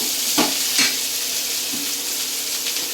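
Onions sautéing in a pan for onion chutney give a bright, steady sizzle, nearby and fairly loud, with a few soft stirring scrapes.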